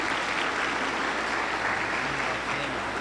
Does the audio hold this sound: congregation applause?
yes